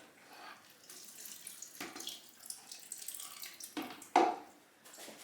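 Pulp from apples for apple cider vinegar pressed down by hand so the juice drains out, giving soft intermittent trickling and splashing of liquid, close and fairly quiet, with a sharper wet burst near the end.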